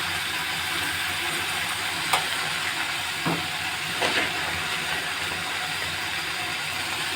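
Leafy greens dropped into a hot pan give a steady, close hissing of steam and sizzle, with a few brief clinks of the pan partway through and no talking.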